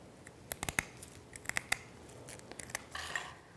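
Several sharp, quick snips in small clusters, close and fairly quiet, as scissors slice through soft fondant, with no talking.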